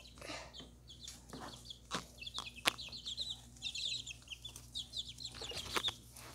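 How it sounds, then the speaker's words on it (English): Repeated high, thin chirps from a chick come in quick bursts over a low steady hum, with scattered clicks and knocks nearby. "I hear her chirping"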